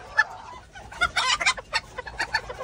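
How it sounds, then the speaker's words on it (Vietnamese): Northern bantam chickens at an ornamental chicken farm cluck in short, irregular bursts, close and fairly loud, with no talk over them. "Cái này gà tre bắc nè."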